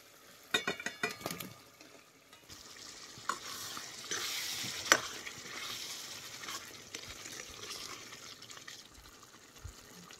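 Potatoes tipped into spiced gravy boiling on a wood-fired chulha for dum aloo: a burst of clinks and splashes at the start, then steady bubbling sizzle and stirring scrapes, fairly faint and close, with no speech.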